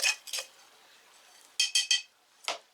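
A plant pot is set down with several light ceramic clinks and taps: a pair early on, a quick cluster of three, then one more, close and fairly quiet, with no talking.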